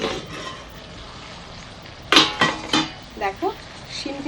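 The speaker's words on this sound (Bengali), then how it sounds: "এবার ঢাকাটা তুলে একটু দেখে নিই।" A lid comes off a pan of flat beans cooking on a gas stove: soft background hiss, then a sharp metallic clink followed by several lighter clattering knocks close by.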